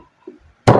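A single heavy thud as lemongrass is smashed flat with a utensil on a board, coming after a faint small knock, close and loud.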